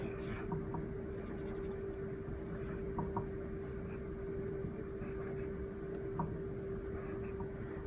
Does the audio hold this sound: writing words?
yes